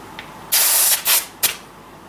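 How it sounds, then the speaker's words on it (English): Bicycle tire inflated with a hand pump, giving three loud, close bursts of air hiss, the first longest and the last short. "Pumping it by hand."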